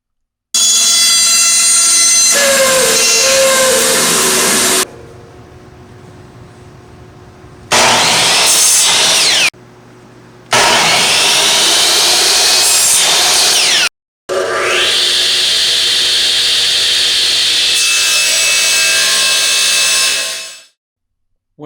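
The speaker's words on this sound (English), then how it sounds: "you can always see the point where the blade touches the wood and cuts into it" A power saw in a woodshop cutting into wood, several loud whining bursts separated by quieter idling or silent gaps, close up with no talking.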